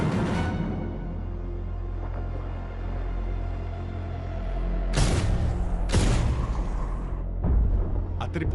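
Several deep, muffled booms from aircraft-dropped bombs roll in from a distance, three of them spaced a second or so apart over a steady low rumble.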